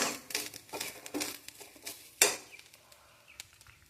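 Grated coconut roasting in a pan for a Kerala-style chickpea curry, with scattered scraping and clinking of a spatula against the metal pan and a sharp knock near the middle, close and moderately quiet, with no talk.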